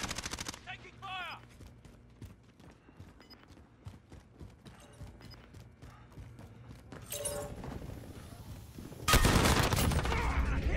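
Gunfire in Call of Duty Modern Warfare, scattered shots and bursts building to a loud, sustained automatic volley near the end, mixed with shouted game voice lines.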